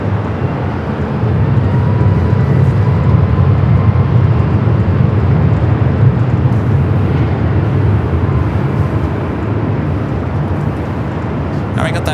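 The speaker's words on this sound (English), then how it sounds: "Now we got that Air France A350." Air France Airbus A350 on flight 29 to Paris taxiing at LAX, a steady, loud low-pitched jet engine rumble and roar that holds throughout without a break.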